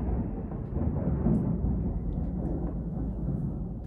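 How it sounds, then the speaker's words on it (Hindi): Thunder rolling through a thunderstorm with lightning, a loud, deep, sustained rumble that fades slightly toward the end, with no voices over it. "बादल गरज रहे हैं एंड लाइटनिंग भी हो रही है."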